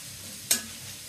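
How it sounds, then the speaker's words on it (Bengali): Spices stir-fried in a pan give a faint, steady sizzle broken by one brief scrape of stirring, quiet and close. "মশলাটা ভালো করে কষিয়ে নাও"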